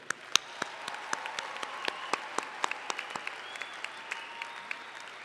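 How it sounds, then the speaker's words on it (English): Audience applause at Wayne State University's December 2019 afternoon commencement, with a large crowd clapping steadily and evenly throughout and a few sharper individual claps standing out from the dense wash. "One more round of applause for them."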